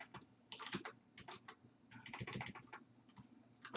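Rapid, irregular clicks of fingers typing on a computer keyboard at close range while entering comic book titles, bursts of keystrokes with short pauses and no talking.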